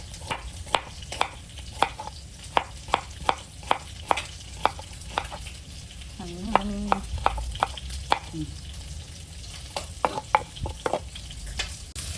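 Pork stir-fries in a pan with cabbage, a steady low sizzle running under a quick, regular series of sharp knife chops as vegetables are cut nearby; no one speaks.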